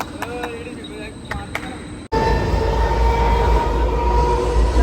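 A Mumbai local train's rumble and clatter fills the scene, growing suddenly louder and denser midway as if a door opened or the train sped past closely.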